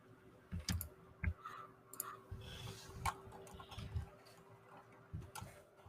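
A computer keyboard clicks in a few sparse, quiet taps and short bursts at close range, with no talking over it.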